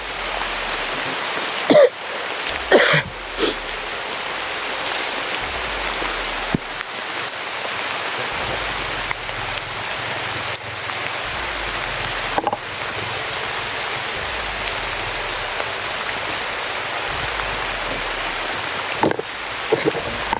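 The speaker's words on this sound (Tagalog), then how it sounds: "Yan o, ulan na talaga." Rain falls in a steady, even hiss through the whole stretch, with occasional low thumps and brief knocks nearby and some voices now and then.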